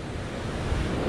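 Rough sea waves and gusting wind roll steadily at the shore during fishing, a dense continuous wash with wind buffeting the microphone and no voices.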